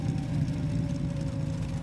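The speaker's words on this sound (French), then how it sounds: "les sons de moteur sont intéressants" A steady car engine in a video game (Mafia) idles with a low rumble and a faint constant whine, no revving surges, continuous throughout.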